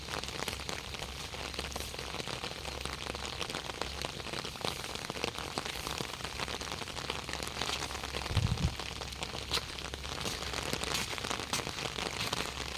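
Steady rain falls over fields in Nam Yuen district, Ubon Ratchathani, Thailand, and patters on surfaces nearby, a dense, continuous hiss with scattered drips, with no voices.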